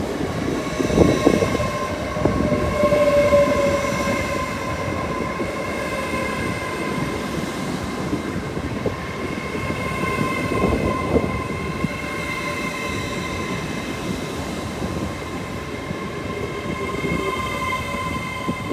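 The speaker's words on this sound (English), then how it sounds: "Next up, the 1348 LNER Azuma to Grantham, Stevenage and London King's Cross." An LNER Azuma train at Doncaster station, heard as a steady rail rumble with sustained tonal hums and a brief squeal early on, continuous and fairly loud throughout with no voices.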